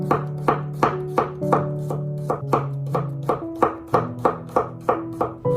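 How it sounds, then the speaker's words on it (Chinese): A knife taps repeatedly on a cutting board in a quick, steady rhythm, slicing garlic cloves, each chop crisp and close, with soft music underneath. "准备一些大蒜，给它切成蒜片。"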